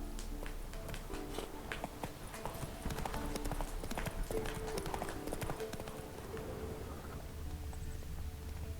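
Horse hooves clip-clop at a steady walking pace in The Witcher 3, close and clear over a low, constant background hum.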